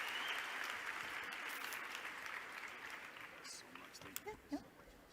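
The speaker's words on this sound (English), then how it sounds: "Can we give him one more round of applause?" Sustained audience applause fills a large hall at a Team Beachbody fitness summit, a dense wash of clapping that holds steady and then thins toward the end, with a few brief cheers and voices rising over it.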